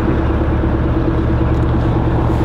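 A motorboat engine rumbles steadily as the boat heads out from Mikkeli harbor, a close, continuous low drone with a pulsing throb and faint water wash.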